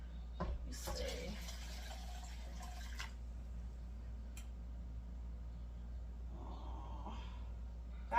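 Water pours from a container into a cooking pot for beef barley soup, a splashing stream for a couple of seconds, followed by quieter trickles and a steady low kitchen hum.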